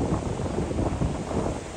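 Strong wind roars at the coast near Kadıkalesi, Kuşadası, where a sailboat has been driven aground, a steady dense rush buffeting the microphone without pause.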